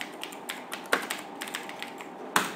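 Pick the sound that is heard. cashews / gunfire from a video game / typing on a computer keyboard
typing on a computer keyboard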